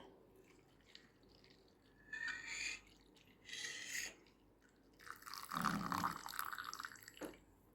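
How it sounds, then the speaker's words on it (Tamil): Coconut milk is poured over soaked beaten rice in several short splashing bursts, the last one longer and fuller, close by in a quiet room. "இதில் இந்த தேங்காய் பாலை கொட்டுறேன்."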